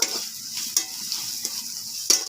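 Ground spices with ginger paste, chili powder and turmeric sizzle in a pan while being stirred, with a steady hiss broken by a few sharp scrapes of the spoon against the pan.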